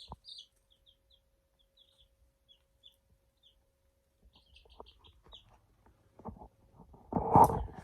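Chicks peep faintly and sporadically in a quiet room, then a hen gives a louder burst of close clucking near the end, with no voices.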